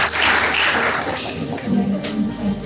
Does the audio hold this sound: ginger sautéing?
no